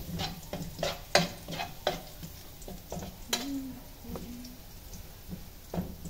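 A spatula scrapes and clacks against a pan while fried rice sizzles, in irregular close strokes with a few sharper knocks; no talking.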